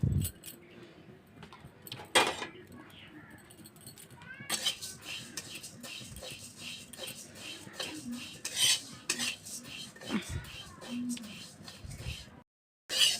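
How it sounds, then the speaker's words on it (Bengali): Mung dal dry-roasting in a hot wok on a gas stove, with a spatula clinking and scraping against the metal in irregular bursts, close and fairly quiet, plus other brief household noises. "এখন আমি মুগ ডালগুলো ভেজে নেব।"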